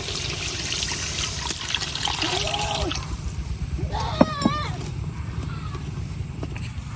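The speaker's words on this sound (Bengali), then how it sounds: "এখন দিয়ে দিতেছি পানি" Water pours and splashes into a pan of spiced dal with taro (kochu mukhi), a brief trickling gush over a steady background hum, with a short clatter of utensils midway.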